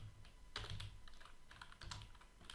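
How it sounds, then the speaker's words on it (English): Typing on a computer keyboard, faint and close, in two short clusters of light key clicks separated by a brief pause, with no speech. "so we just type in here"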